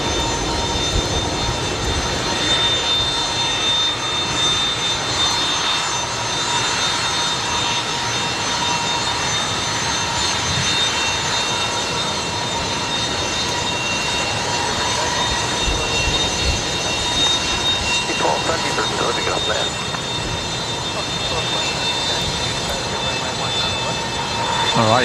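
Aircraft engines run at Brisbane Airport during a cyclone evacuation, a loud, steady jet whine and roar filling the whole stretch, with a rising swell near the end and voices talking over it at times.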